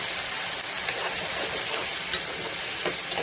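Tomato, ginger and garlic paste hits onions frying in a pan, giving a continuous dense sizzle and hiss with faint stirring scrapes, close and alone.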